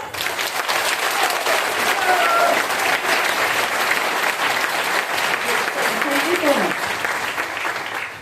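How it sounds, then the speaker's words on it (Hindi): A hall audience clapping loudly in unison, a thick, continuous roar of many hands that stays strong for several seconds, with a few voices faintly audible within it. "तो एक बार जोरदार ताली हो जाए।"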